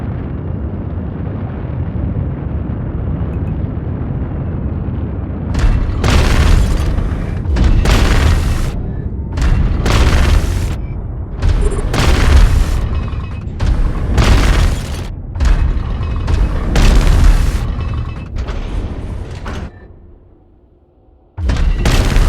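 A destroyed target ship explodes in the video game Eve Frontier as a run of heavy, booming blasts, about eight loud bursts in a fairly regular rhythm over a low rumble, ending in a sudden drop and one last hit.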